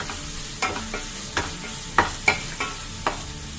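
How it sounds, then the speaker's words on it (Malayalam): Sliced onions fry over a medium flame for a coconut fish curry, a constant close sizzle punctuated by about half a dozen evenly spaced spatula scrapes, with no one talking. "ഇനി സവാള നന്നായിട്ട് വേവുന്നത് വരെ നമുക്കിത് കുക്ക് ചെയ്തെടുക്കണം."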